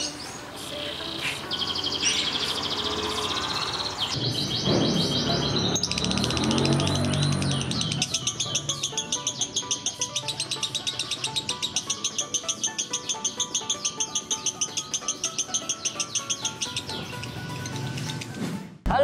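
A lovebird chirps in long, rapid, high-pitched trills and tweets, continuous and fairly loud throughout, with a fast rhythmic chattering stretch in the second half.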